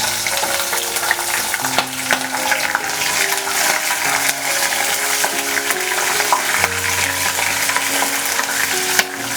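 Curry leaves and green chilies fry in hot oil with chana dal for lime rice, giving a loud, dense, continuous sizzle that stays steady throughout, with no voices.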